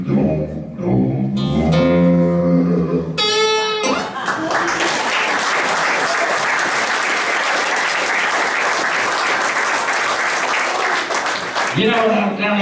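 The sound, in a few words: church congregation applauding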